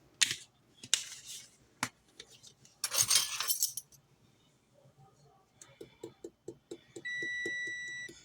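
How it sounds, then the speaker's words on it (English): After some clattering and scraping, a quick series of short electronic tones sounds from an oven signalling it is preheated, followed by a sustained beep chiming steadily nearby. "My oven is ready. That's what that noise was."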